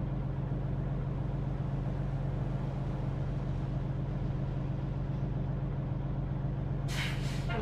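A Mack Superliner truck engine idles steadily in American Truck Simulator, a deep continuous low rumble throughout, with a brief hissing burst like an air brake release near the end.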